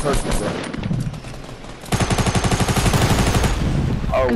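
Rapid machine-gun-style gunfire in Fortnite aimed at a guided missile, a steady stream of shots after a stretch of rumbling noise, with talking partly underneath.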